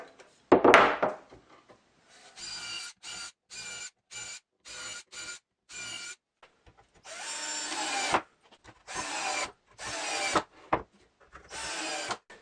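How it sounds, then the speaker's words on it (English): A power drill bores a grid of holes into a wooden tabletop for a Pantorouter XL build, sounding as a series of short whirring bursts separated by brief pauses, close and moderately loud after an opening thump. "There's a grid of holes that needs to be drilled into the tabletop for mounting stock onto it"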